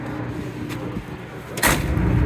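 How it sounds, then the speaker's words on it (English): A heavy door on a 1957 Chevy slams shut at a classic car show, one deep, loud thud cutting through a low background hum. "Look at that, just a heavy, huge thud of a door."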